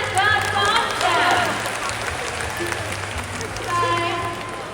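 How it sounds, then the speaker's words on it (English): An audience at an animal show in Singapore applauds, a soft pattering of claps running beneath a presenter who keeps talking over it. "Let's give a round of applause for Halim as well as for Oscar"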